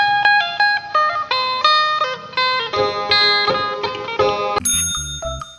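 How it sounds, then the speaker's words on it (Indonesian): A sampe, the carved wooden Dayak plucked lute from Kalimantan, picks a bright melodic line of ringing notes with steady rhythm, up close and with no voices, before a short chiming tone at the end. "Alat musik sampe, atau sape, berasal dari Kalimantan"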